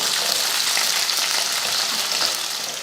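Small onions and a few garlic cloves sauté in a hot pan, giving a steady, loud, dense sizzle and fry with faint stirring, heard close with no voices.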